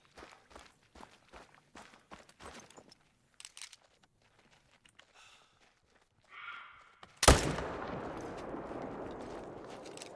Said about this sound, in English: I'll shoot that female